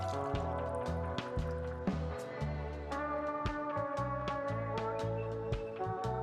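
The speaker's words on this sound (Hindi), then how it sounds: "Now wash my face with any face wash you have." Water splashes and drips close by as a face is washed with face wash, a string of soft wet squishes and droplets at an irregular rhythm, with no talk.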